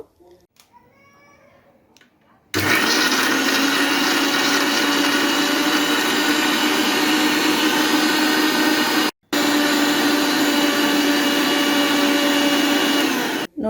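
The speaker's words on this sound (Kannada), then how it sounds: "ಒಂದೆರಡು ಐಸ್ ಕ್ಯೂಬನ್ನು ಹಾಕ್ಕೊಂಡು ಇವಾಗ ನುಣ್ಣಗೆ ರುಬ್ಕೋಬೇಕು" A mixer grinder grinds spicy chutney with a couple of ice cubes, a loud, steady motor whir that starts abruptly after a quiet opening, cuts out for a moment, then resumes until a brief stop at the end.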